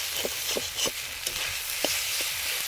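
A coriander-cumin paste masala fries in a pan with a soft, broad sizzle, as a spatula taps and scrapes lightly in an irregular rhythm. The sound is close and quiet, with no speech.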